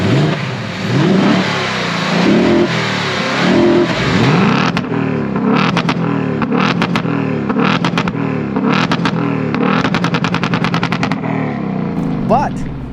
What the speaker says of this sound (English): Under the hood of this Mustang is a 5-liter 4th generation Coyote engine.